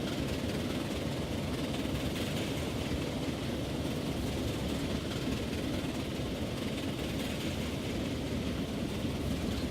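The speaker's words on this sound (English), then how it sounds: "You heard a train because there's one above us" A train rumbling through a tunnel overhead in Transport Fever, a steady, muffled, continuous roar that holds constant without breaks.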